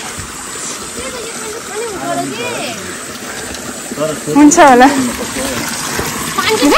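Clean, cold water flows along a hiking trail at Bukhansan in South Korea, a steady near gush and splash running under people talking and calling out nearby.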